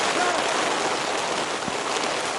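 Heavy rain pelts down at a rugby league ground, a loud, dense, unbroken hiss of drops hitting surfaces that holds steady from start to finish.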